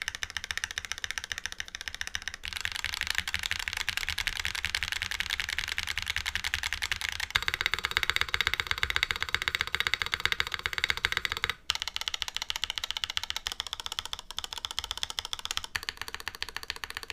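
Typing on a modded Mode Envoy top-mount mechanical keyboard prototype: a steady, dense stream of close keystrokes with brief pauses, continuous and fairly loud, with no talk over it.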